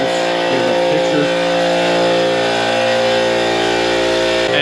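Loud, steady drone of a 2020 Kawasaki ZX10R engine running on a dyno, a sustained buzzing hum with rich harmonics and slight shifts in pitch, close and dominant throughout.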